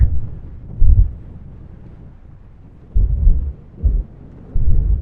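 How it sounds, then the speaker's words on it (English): Strong gusts of wind buffet the microphone in heavy, low rumbling bursts that come and go, loud and close, on the exposed headland of Morte Point, North Devon, with no speech. "as you can hear, probably it is very, very windy in here today"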